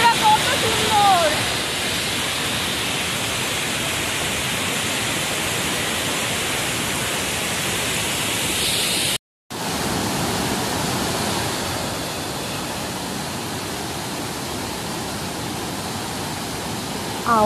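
Roaring waterfall near Patratu valley outside Ranchi, a loud, steady broadband rush of falling water filling the whole clip, with a brief cut midway before the roar resumes slightly softer.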